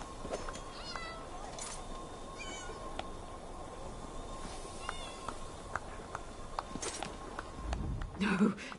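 Cat meowing in the video game Elder Scrolls Online: Morrowind, a few short meows over steady ambient game noise and scattered faint clicks, with a voice speaking briefly.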